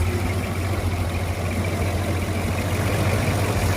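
A Humber heavy utility military vehicle's engine idles high and steady, a loud, close, continuous low rumble with a constant hum and no talking.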